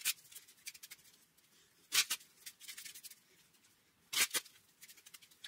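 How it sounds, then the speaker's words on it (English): Playing cards being shuffled by hand, a quiet papery riffle with two sharper bursts of cards snapping together amid softer rustling, no talking. "Okay, so I need to shuffle these up"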